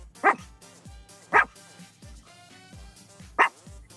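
A dog barks in three sharp, loud bursts spaced about a second or two apart, close by, over a low steady background hum.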